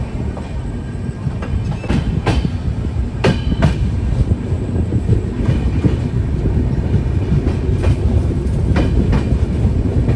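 The Jammu Tawi Express train departs and rumbles along steadily, close and loud, its wheels clattering in a rhythmic clickety-clack with occasional sharper metallic clicks.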